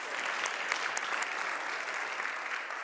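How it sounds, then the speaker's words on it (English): A conference audience at an energy transition dialogue in Berlin gives a panel steady applause, a short burst of continuous clapping from a crowd. "Let's give them a warm round of applause."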